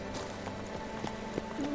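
A horse's hooves clip-clopping in The Witcher 3: Blood and Wine, a few quick, fairly faint hoof steps over low game ambience.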